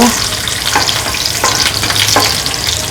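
Cashew nuts fry in a pan for a cherupayar payasam, a steady close sizzle with occasional stirring scrapes and no talking.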